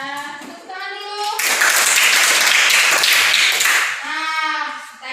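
A classroom of fourth-grade children bursts into loud, sustained clapping for about three seconds, with a voice heard just before and after the applause.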